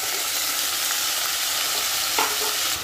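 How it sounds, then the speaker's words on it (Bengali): Vegetables fry in a pan after a panch phoron tempering, a steady close sizzle that is stirred throughout, with a brief louder scrape of the spatula near the end. "এটা একটু ভাজা ভাজা করব"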